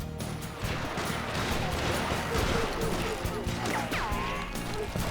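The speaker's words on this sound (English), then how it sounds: "No idea what everyone's shooting at." Gunfire in Call of Juarez: Gunslinger crackles as a dense, continuous volley of shots with ricochet whines, while someone speaks over the shooting.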